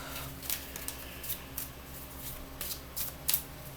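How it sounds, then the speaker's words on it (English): Playing cards are shuffled in quick riffling bursts, crisp and close, repeated several times over a quiet background. "I don't know why I'm still shuffling, because a card flew out for you guys."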